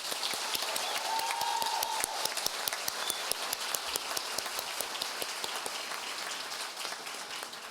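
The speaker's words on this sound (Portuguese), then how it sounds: "Por favor, uma salva de palmas." Sustained applause from an audience at an ordinary municipal council session, dense steady clapping filling the whole stretch with no speech over it.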